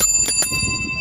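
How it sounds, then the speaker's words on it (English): A new bicycle bell rings out clearly, with bright sustained tones and two quick strikes near the start that fade over about a second, with no talking. "me buying a new bell for my bike"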